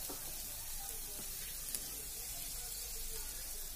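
Green chilies and onions frying in a pan, a steady dense sizzle that holds evenly throughout, with a faint stir or tap midway and no voices.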